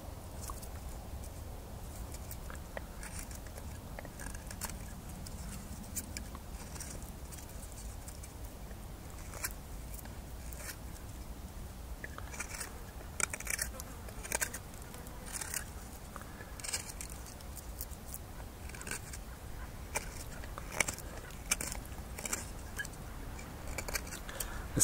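Knife carving a green wood spoon with push cuts, a continuous run of soft, close shaving and scraping strokes, faint and steady throughout with no talk.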